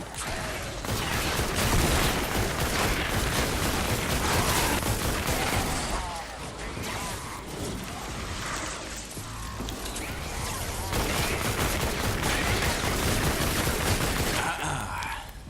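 Continuous rapid gunfire from Fortnite Save the World during a storm shield defence, dense mechanical clattering bursts that fill the clip, with a short dip around the middle and a quieter tail at the end.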